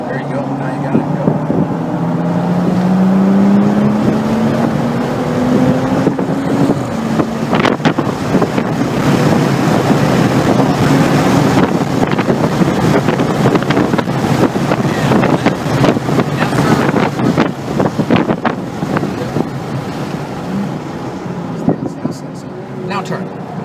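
A BMW accelerating hard around the Circuit of the Americas track, the engine droning loud and rising in pitch under heavy wind buffeting, with an instructor's voice talking over it.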